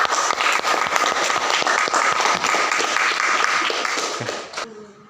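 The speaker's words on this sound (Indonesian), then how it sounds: "Tepuk tangan" A class applauds after a student sums up the day's lesson on posters. The crisp, close clapping is brisk and steady, then thins and stops abruptly near the end.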